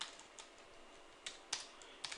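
Quiet keystrokes on a computer keyboard, a few scattered clicks over low room hiss with no talking.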